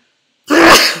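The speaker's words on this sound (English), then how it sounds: "Oh man, I gotta sneeze." A single loud, close human sneeze bursts out abruptly after a moment of silence.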